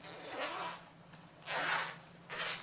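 Zipper on a sewn cosmetic bag being pulled open in three raspy strokes with short pauses between, close and alone.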